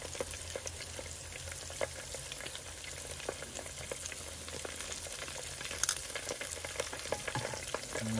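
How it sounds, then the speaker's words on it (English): Homemade egg rolls deep-fry in hot grease with a continuous dense crackling sizzle, dotted with small pops and bubbling, close and unbroken throughout. "Fry them till they're golden brown."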